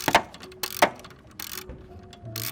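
Loosening the crank pulley bolt on a Hyundai Elantra gives a few sharp metallic ratcheting clicks in bursts, then quieter mechanical clatter close by, with no talking.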